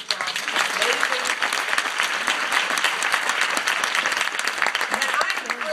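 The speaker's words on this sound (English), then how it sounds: "Let's give her a round of applause." Dense, sustained applause from an audience at a museum event, many hands clapping loudly and evenly throughout, with crowd voices mixed in.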